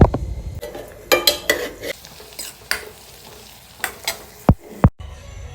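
An onion curry is stirred in a pan with a spoon, scraping and clinking against the metal over a soft sizzle of frying, in short irregular strokes heard close up with no talking.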